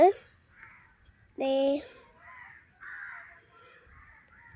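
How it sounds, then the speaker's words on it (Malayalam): A crow caws once, loud and near, with a few fainter bird calls around it and soft talking in the background. "അതാണ് കിളികൾ പറന്ന് നടക്കണതാണ്"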